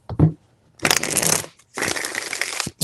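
Cards are shuffled up close: a brief tap, then two crisp riffling bursts of papery flutter, each about a second long, separated by a short pause.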